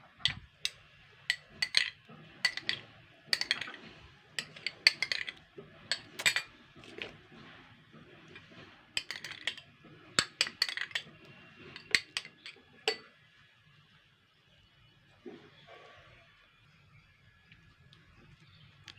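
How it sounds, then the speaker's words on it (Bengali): A metal spoon is rinsed and washed, clinking repeatedly against a vessel in bright, irregular taps close by, with running water noise and a quieter stretch near the end. "এবার আমি চামচটা আমি আবারও ধুয়ে নেবো"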